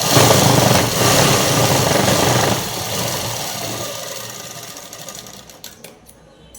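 A sewing machine runs a continuous topstitch along a pair of pants, a loud steady mechanical whir that gradually softens and ends in a few separate stitching taps.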